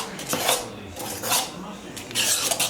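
Dried fruits are stirred and scraped by hand in a bowl for Guyanese black cake, giving three slow rounds of soft rasping, rubbing swishes with faint utensil clinks against a low background hum.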